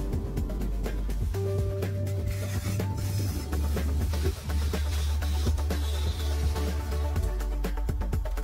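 A trowel floats fresh concrete steps during house foundation work, a steady rasping scrape repeated continuously over a constant low machine hum.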